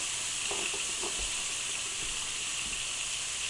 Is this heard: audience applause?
no